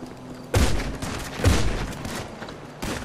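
Gunfire in GTA 5 roleplay, three loud separate shots with booming low ends spaced about a second apart, standing alone without talk.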